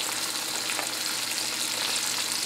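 Chicken pieces browning in a pot, giving a steady, dense sizzle of frying that holds at an even loudness throughout, close and continuous with no talking.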